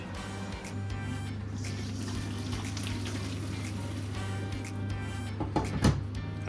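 Boiled potatoes drained in a kitchen sink: a steady, even rush of pouring water over a low hum, ending with a few knocks and clatters.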